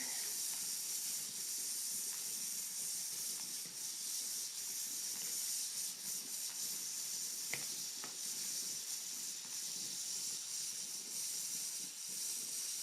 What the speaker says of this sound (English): So here we have the jiggle right now.